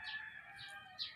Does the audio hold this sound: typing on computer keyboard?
no